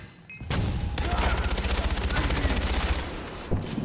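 An upgraded gun in Far Cry 4 fires a loud, rapid automatic burst lasting a few seconds, with individual shots hammering in a fast steady rhythm before cutting off, followed by a single later shot.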